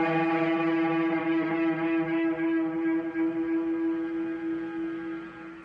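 Electric guitar note held in a rock solo with whammy bar vibrato, a long sustained tone whose pitch wobbles smoothly, loud and close, slowly decaying over several seconds.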